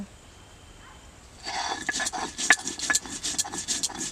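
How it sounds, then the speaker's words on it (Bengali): Whole cumin seeds are ground into a paste on a grinding stone, a dry rhythmic scraping and rubbing that starts after a quiet second and repeats in steady strokes, close and fairly loud. "আমি এবার গোটা জিরা বেটে নেব"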